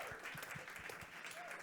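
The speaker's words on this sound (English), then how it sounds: "Give yourselves a round of applause, please." Brief, faint applause from a summit audience during a fireside chat, an even patter of clapping heard from a distance.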